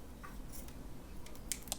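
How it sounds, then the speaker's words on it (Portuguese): Scissors snip through leftover zipper tape while sewing a mini backpack, giving a few quiet, crisp cuts close by over faint room hiss. "agora tira toda a sobra do zíper"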